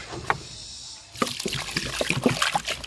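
Water poured over homemade butter in a bowl to rinse out the buttermilk, a steady splashing trickle that starts abruptly partway through with small sloshes and drips, close up, no talk.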